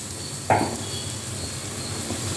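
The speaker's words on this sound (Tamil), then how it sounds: "வெங்காயம் பூண்டு, இந்த சின்ன வெங்காயம் இதெல்லாம் போட்டு கொஞ்சம் சூப்புக்கு வதக்க போகிறேன்" Onion, garlic and shallots sautéing in oil for soup: a soft steady sizzle, with a single stirring clink of a utensil against the pan early on and a faint scrape later.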